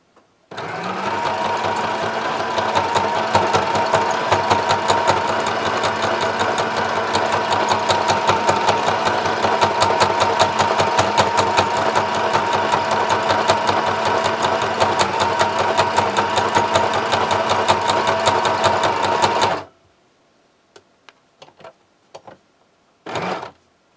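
A sewing machine stitches a tote bag in one long steady run of rapid, even needle clatter for about twenty seconds, loud and close, then stops, followed by a few isolated clicks and handling taps.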